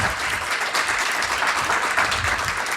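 A live convention audience at a Star Wars Celebration Europe 2023 panel breaks into steady, dense applause, loud and continuous throughout with no voices over it.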